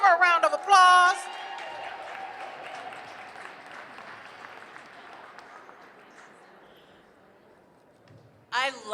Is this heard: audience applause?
yes